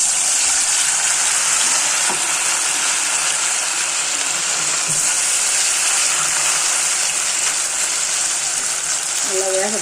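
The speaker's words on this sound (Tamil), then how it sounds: "எண்ணெய் காஞ்சிச்சு, பொரிச்சு எடுத்துடலாம்." Steady, loud sizzling hiss of chicken 65 frying in hot oil, a constant crackling wash that runs throughout without a pause.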